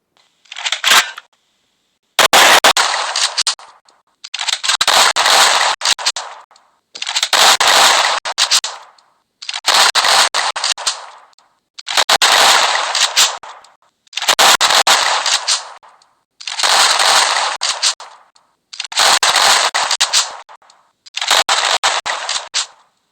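Gunfire from a weapon in the Free Fire video game, nine or so sharp bursts of rapid shots spaced a couple of seconds apart, each loud and crackling with brief silence between.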